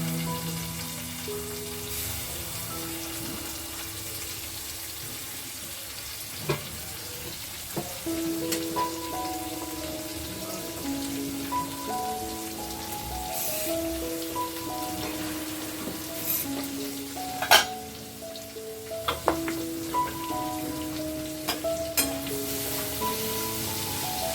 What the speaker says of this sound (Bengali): আলুগুলো আগে একটু ভাজা ভাজা করে নিয়ে কুমড়ো ফুলটা দেবো